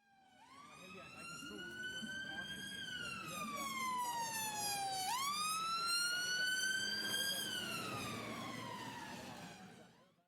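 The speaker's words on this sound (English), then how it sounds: "What you heard is the sound of the ambulance being a bit higher pitched as it approached you" A loud ambulance siren wails steadily, its pitch sliding higher as it approaches, then dropping sharply halfway through as it passes and fades into the distance.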